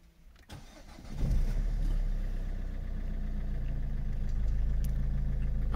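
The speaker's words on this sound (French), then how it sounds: "On va déjà donc démarrer notre véhicule une fois pour voir." A 2009 Citroën C5 cranks briefly and starts, then settles into a steady, close idle for several seconds, with a click just before the crank.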